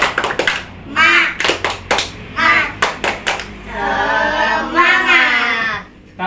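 A school class performs the tepuk semangat clapping routine, with a quick rhythmic run of sharp claps followed by children loudly shouting together in unison.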